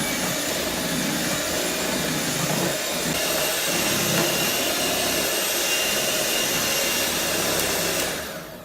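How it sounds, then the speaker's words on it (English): An electric mixer whirs steadily through tres leches cake batter, a loud continuous motor hum that holds for several seconds and winds down at the end, with no talking. "after I put all my ingredients in, I'm just gonna mix it with my mixer."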